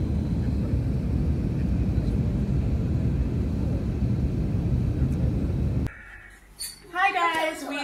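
A full airliner taking off produces a heavy, steady low roar for about six seconds, then the sound cuts off abruptly and a voice is heard briefly.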